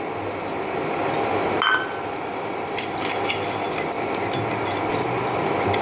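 A spoon stirs through a dalia mixture in a pot, continuous close rubbing and scraping with occasional light clinks against the metal, no talking.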